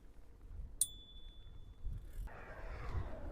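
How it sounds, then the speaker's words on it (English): A single bicycle bell ding rings out sharply on a riverside cycle route, its clear tone lingering for over a second before fading into quiet outdoor background noise. "I need my bell."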